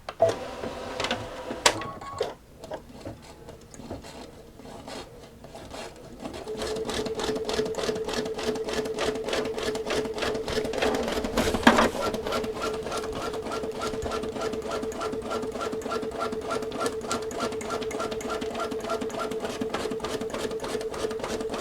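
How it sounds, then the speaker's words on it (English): An embroidery machine stitching a design onto Tyvek with regular thread: a few start-up taps, then a steady, fast rhythmic whirring chatter of the needle that runs close and continuous, with one brief louder bump midway. "I'm going to go into embroidery here. And I am going to go ahead and stitch that out on the Tyvek."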